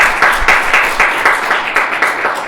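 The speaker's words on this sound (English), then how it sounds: "if we could give our speakers another round of applause for Dr. Jerry and Lauren" An audience claps for speakers at a dementia talk, steady applause with many hands, moderately loud and close, running evenly for a few seconds.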